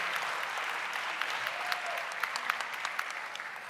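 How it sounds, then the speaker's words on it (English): An audience claps for the AdCare team at a prevention professionals' award event, a fairly quiet, even patter of many hands heard from a distance, continuous throughout. "So a big round of applause for our AdCare team everywhere."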